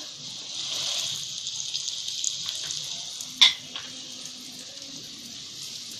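Rava-coated pieces of kupa tuna fish hiss and sizzle steadily in hot oil on a flat pan, with a sharp crackle as another piece is laid in, close and continuous with no talk.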